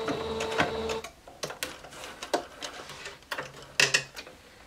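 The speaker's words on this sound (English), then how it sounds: "I like to do this with a sewing machine" A sewing machine stitches a neckband on a bodysuit, its motor running in short close bursts with mechanical clatter, stopping and starting several times with no talking.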